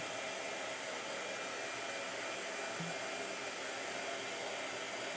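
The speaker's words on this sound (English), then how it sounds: "Can you hear the blow dryer, or are we okay?" A hair dryer runs steadily, a continuous whooshing blow at even volume throughout, with no one speaking.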